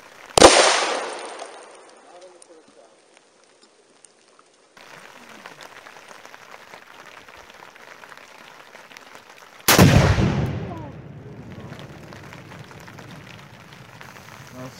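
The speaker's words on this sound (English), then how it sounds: "Second shot." Two loud gunshots fired at a bulletproof Android tablet outdoors, each a sharp crack ringing out into a decaying echo, with a low hiss and faint noise between them.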